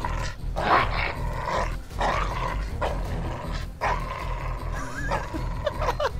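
Dog barks and yips in a GTA RP video game, with a player acting as the dog: repeated close, loud woofs in bursts over a steady low background hum.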